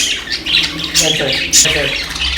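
Pet birds kept at home, where one has laid an egg, give loud harsh squawks and chirps in close bursts through the moment.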